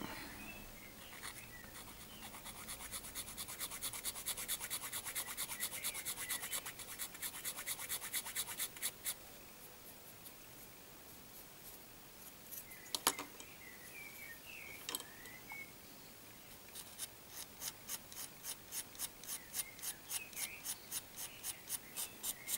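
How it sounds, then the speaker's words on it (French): A hand file rasps across the surface of a plastic IG-88 scale model in steady, quiet back-and-forth strokes, pausing midway, then resuming as rhythmic scraping. "Un petit coup de lime."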